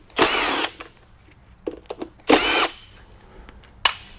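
A power tool backs off T25 Torx fasteners while rocker arms are removed from a Chrysler/VW 3.2 or 3.6 engine: two short, loud whirring bursts with softer clicks and handling noises between them and a brief burst at the end.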